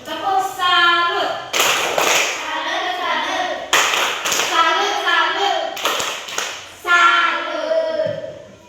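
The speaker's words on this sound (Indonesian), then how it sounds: "Tepuk salut." A class of children claps a salute chant, sharp rhythmic bursts of hand claps in several groups separated by brief pauses, with young voices calling out between them in a classroom.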